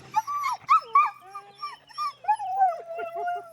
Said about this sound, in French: Figo, c'est un husky de Sibérie et c'est un super gentil chien